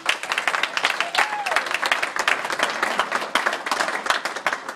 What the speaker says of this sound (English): I want to give a big round of applause to two different groups